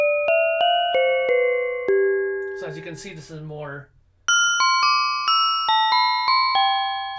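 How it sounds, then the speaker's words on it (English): Bright synth bell tones from a keyboard ring out in a slow, stepping melody, each note decaying, interrupted midway by someone talking before the bell notes resume. "This is like a bell sound."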